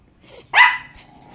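A house dog gives a single sharp bark, close and loud, with a brief fading tail, in an otherwise quiet room.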